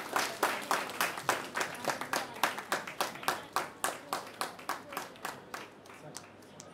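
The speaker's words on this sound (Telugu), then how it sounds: "మరి ఆమెకి కూడా అందరూ క్లాప్స్ కొట్టండి" Audience applauding a student at a school award announcement, a steady run of crisp, fairly close hand claps that fade slightly toward the end, with no talking over them.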